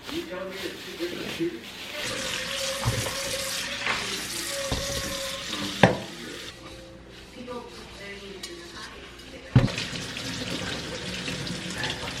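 Food being washed under a running kitchen tap before going into the oven, a steady stream of water hissing and splashing into the sink with a few sharp clatters, while people talk over it.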